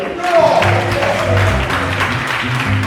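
A church congregation claps and cheers in acclamation of the Lord, a dense and steady wash of applause with voices mixed in and a low sustained musical hum underneath.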